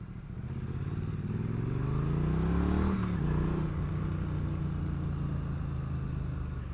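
A Triumph Street Twin 900cc motorcycle rides past, loud and continuous. The engine note rises in pitch, then drops, like a gear change, under steady wind and road rumble.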